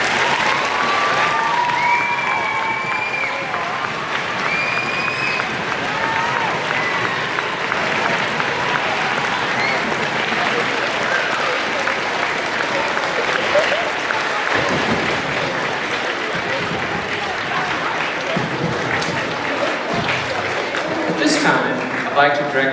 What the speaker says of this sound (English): Let's give a big Festus Intermediate round of applause for our